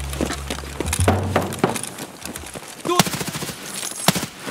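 Full-auto gunfire in the video game Escape from Tarkov, with short sharp bursts and scattered shots mixed with clattering movement sounds, fairly close, with no speech.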